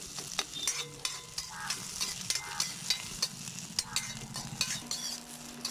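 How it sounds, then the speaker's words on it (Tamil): Onions sautéing in a pan: a steady close sizzle with repeated scraping and clinking of a spoon or spatula stirring against the metal, in an uneven rhythm and without talk. "வெங்காயம் கொஞ்சம் வதக்கிக்கலாம்."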